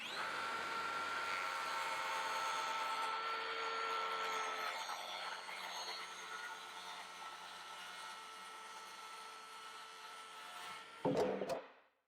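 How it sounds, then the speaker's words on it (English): Wooden workbench work surface being cut with a power saw, a steady loud whirring drone that fades before a few sharp knocks at the end. "We're going to cut our work surface between the side locker and the toolbox."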